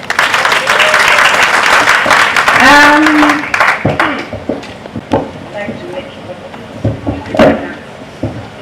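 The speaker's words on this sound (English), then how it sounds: "Shall we clap for them?" Conference attendees at a women's event clap for the conveners, loud dense clapping with a vocal cheer at first, then thinning into scattered claps and murmuring voices.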